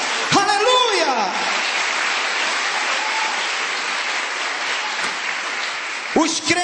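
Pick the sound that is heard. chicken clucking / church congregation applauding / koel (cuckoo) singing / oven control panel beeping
church congregation applauding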